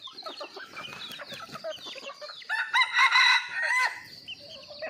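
Several backyard chickens cluck and chatter nearby, and a rooster crows loudly partway through before the clucking carries on.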